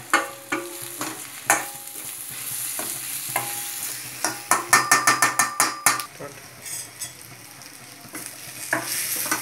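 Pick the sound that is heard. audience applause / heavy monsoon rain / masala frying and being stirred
masala frying and being stirred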